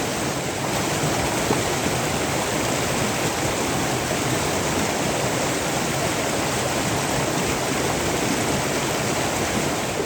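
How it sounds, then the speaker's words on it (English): A stream in Mother Lode gold country roars steadily and loudly throughout, a dense, unbroken wash of rushing water with no other sounds standing out. "I can't hear him over the water"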